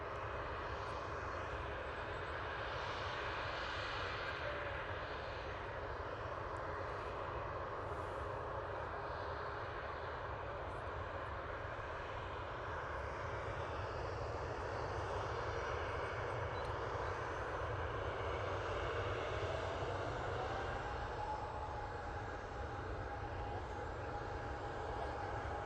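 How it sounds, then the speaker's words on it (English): An EasyJet airliner arriving from Geneva rumbles steadily at a distance as it comes in to land at Manchester Airport, a continuous broad engine roar that holds for the whole stretch with a faint whine rising near the end. "Easyjet from Geneva is about to come in."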